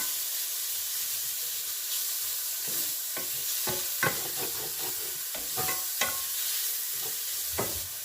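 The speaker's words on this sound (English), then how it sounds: "Just gonna leave this to fry for just" Food fries in a pan with a steady, close sizzle and hiss, while intermittent clicks and scraping stirs break through it; there is no talking.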